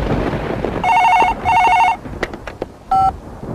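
A telephone rings loudly and close, with two long electronic ring bursts followed by a shorter one, and no voices over it.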